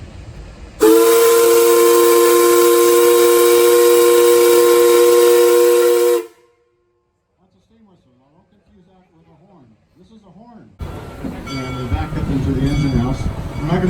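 A loud, sustained steam locomotive whistle blast at the Kings Island amusement park train, with rich harmonic tones, lasts several seconds, then cuts off to near silence before rumbling train noise and voices follow.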